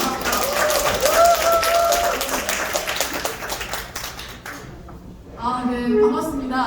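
Clapping from the audience at a city council member's political report meeting, dense and fairly loud, thinning out toward the end as a voice comes in.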